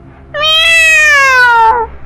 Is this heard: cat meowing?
yes